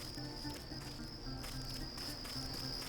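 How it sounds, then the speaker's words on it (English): Crickets chirp in a steady, shrill stream in the Deus Ex video game, constant and fairly close with no talking. "I can walk around behind here with some very loud crickets."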